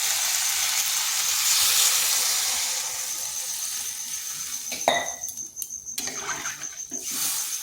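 Water is poured into a hot pan of frying, nearly cooked potatoes, and a strong hiss and sizzle breaks into bubbling, with a few clinks of a utensil against the pan nearby.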